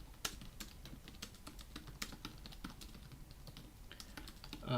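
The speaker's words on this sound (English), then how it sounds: "I'm answering the question by typing it" Steady typing on a computer keyboard, close and fairly quiet: irregular clacking keystrokes with occasional louder taps and no talk.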